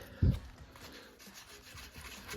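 Corroded chrome carburetor cap scrubbed with Coke and aluminum foil, a faint close rubbing and scratching that opens with one brief knock.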